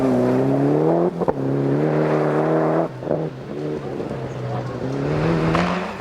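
Rally car engine driving through snow at the 2000 Snowman Rally, loud and close, a steady high drone with rising revs, two brief gear-change dips near the start and a rough patch midway before climbing again.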